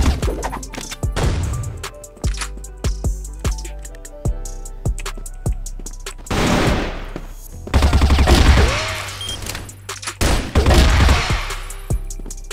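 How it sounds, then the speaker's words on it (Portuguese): Rapid bursts of video-game M14 rifle fire, many sharp shots in quick volleys, some spaced single cracks, loud and close with game sounds between. "Ouvi um tiro de M14?"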